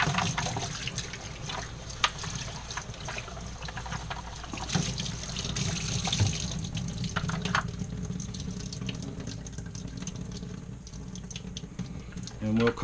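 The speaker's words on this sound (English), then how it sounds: "So in this case I will just give this whole tray just kind of a rinse out." Tap water running steadily over a SunSun 304b canister filter's sponge tray while it is rinsed, with a continuous splashing, trickling wash and occasional knocks.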